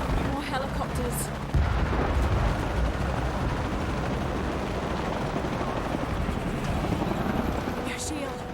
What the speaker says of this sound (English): More helicopters.